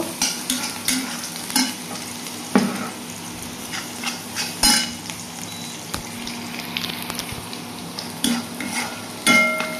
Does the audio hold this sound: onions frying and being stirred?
yes